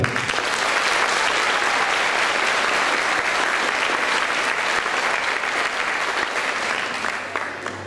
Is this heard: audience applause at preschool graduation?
yes